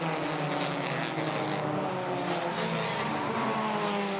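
Touring race cars, including Honda Civics and a Citroën Saxo, racing on the Biķernieku track, a loud continuous howl of several engines at high revs with shifting pitches as they pass close by.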